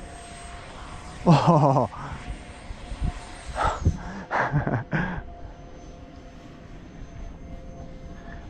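A small 64mm electric ducted-fan Viggen RC jet on a 6S power setup, its high whine sweeping past overhead at a distance, heard alongside brief gasps and breathing from a person close by, with a whooshing pass that fades out.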